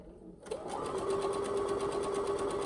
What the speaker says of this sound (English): So I'm gonna start off sewing here.